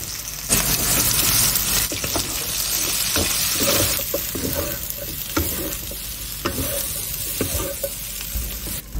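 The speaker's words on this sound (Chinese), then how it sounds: "炒香后下土豆片配菜" Potato slices stir-fried in a wok with dry pot sauce, scallion, ginger and garlic give a steady, close sizzle, with repeated scraping and clacking of the spatula throughout.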